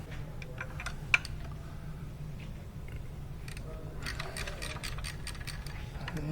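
A ratchet loosening bolts on the water pump of a 16V VW Passat B3 clicks in quick, light runs, faint against a low workshop hum, with one sharp tap early on.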